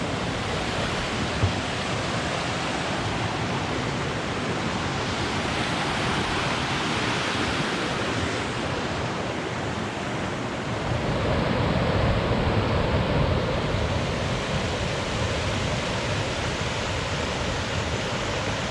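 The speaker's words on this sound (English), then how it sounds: "Those waterfalls" Waterfalls along a Scottish trail through the Grampians give a continuous, loud rush of falling water. The broad roar holds steady throughout, with a slight swell midway and no voices.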